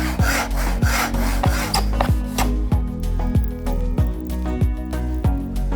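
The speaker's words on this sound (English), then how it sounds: "we'll cut them to size with a saw and shoot them down to their final dimensions" A hand saw cuts wooden table components to size, rhythmic back-and-forth rasping strokes close up, about a dozen strokes in quick steady succession.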